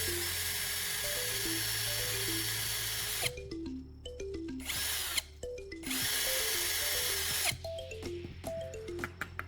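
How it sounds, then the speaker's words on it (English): An electric drill bores a small hole in the bottom of a metal lighter casing, a loud whining motor that spins up and down in several bursts with short pauses between, close up and without speech. "And I'll also drill a small hole at the bottom of the casing, with the purpose of easily routing the electrical wire through it."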